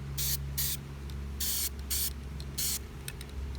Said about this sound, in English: Make sure you hold the can 6 to 7 inches away from the spraying surface